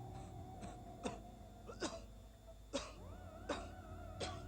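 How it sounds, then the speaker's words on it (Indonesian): Several short, quiet coughs are spaced out over a few seconds, heard faintly against a steady background hum. "Mbah batuk, Mbah."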